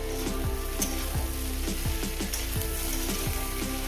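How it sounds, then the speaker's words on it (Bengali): Ground bitter-greens paste frying with brinjal in a pan, a dense steady sizzle with crackling pops and a regular rhythmic scrape of stirring, close and even throughout, no one speaking. "এটাকে আমি ভাজবো এই বেগুনের সঙ্গে ভাজবো"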